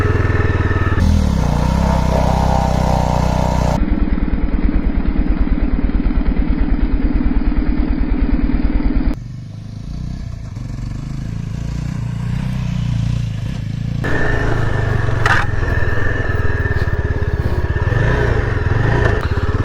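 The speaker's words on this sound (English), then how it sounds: "So now let's ride this beautiful, much awaited," The all-new Yezdi Adventure motorcycle's engine is heard while riding, with a loud, close, steady thrum, shifts in pitch and throttle, and some clattering in the later stretch of the ride.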